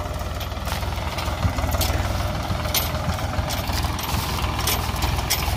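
A tractor engine idles steadily close by, with a low, even mechanical throb and a faint knocking rattle running throughout and no talking.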